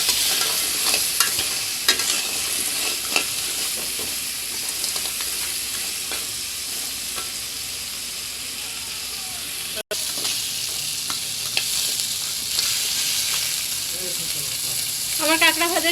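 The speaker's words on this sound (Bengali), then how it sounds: "আমার কাঁকড়া ভাজা শেষ হয়ে গেছে" Sundarbans crab pieces with salt and turmeric fry lightly in oil in a pan, giving a continuous close sizzle broken by scraping stirs and light utensil clicks, with a brief voice-like sound near the end.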